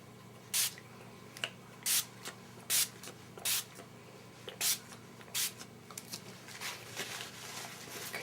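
Small pump sprayer misting homemade glimmer mist made from printer ink and walnut ink onto a scrapbook canvas: about seven quick, soft, evenly spaced spritzes at close range over a quiet room, no talking.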